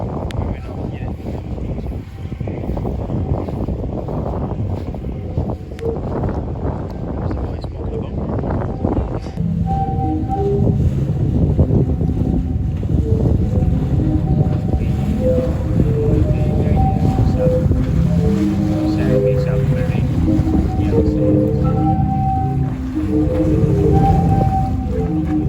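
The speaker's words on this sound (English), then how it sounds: "This is the sea organ" The Zadar sea organ sounds as waves push air through its pipes, sustained low moaning tones that overlap and shift under steady wind noise, growing fuller and more tonal partway through.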